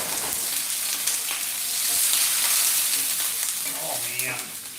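Vegetables hiss and crackle in a hot wok, a dense steady sizzle with bursts of spattering and a few stirring scrapes, loud and close throughout.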